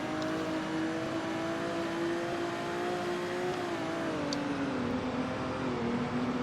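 Formula 2 race cars, a Prema and another car, screaming down the straight toward turn one at Monza, with a high steady engine whine that shifts pitch slightly as they run together, continuous and fairly close.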